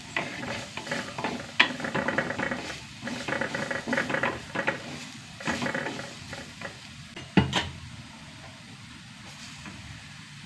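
Coriander powder is stirred into a hot sizzling pan, with scraping spoon strokes and crackling frying noise coming in uneven bursts, close and fairly loud, with no talking.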